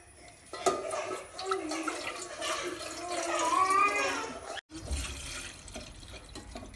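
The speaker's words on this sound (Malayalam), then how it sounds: "ആദ്യം പാത്രം വയ്ക്കുക, എന്നിട്ട് വെള്ളം ഒഴിക്കുക." Water pours into a cooking pot in a home kitchen while noodles are being made. The splash rises steadily for several seconds, cuts off, and then returns more quietly.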